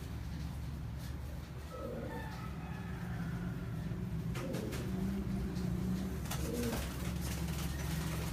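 Pigeons cooing in a loft, a few soft low coos spaced out over a constant hum of background noise, faint and somewhat distant.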